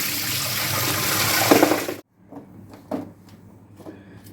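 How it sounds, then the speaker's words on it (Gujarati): Water pouring and draining off a large batch of washed ginger in a basket strainer, a loud continuous rush that cuts off abruptly, followed by quieter drips and light clatters. "તો આવી રીતના પાણી બધું કાઢી લઈશું"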